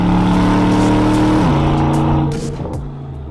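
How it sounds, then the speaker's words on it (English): An Aston Martin DBX engine and exhaust in Sport Plus mode rev loudly and close, holding a strong steady drone that steps down in pitch, then falls away with a few sharp exhaust pops near the end. "The exhaust system I like to have in Sport Plus because I like that more order content from the engine"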